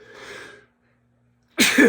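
A brief soft breath, a moment of silence, then a sharp, loud sneeze bursts out close by.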